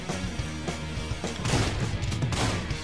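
Gunfire in the video game Wet, a rapid burst of loud shots and impacts packed close together in a short, dense stretch of combat noise.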